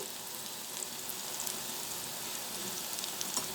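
Eggplant and green chili pieces sizzle steadily in hot oil in a pan, a continuous close crackling hiss that holds at the same level throughout, with no voices.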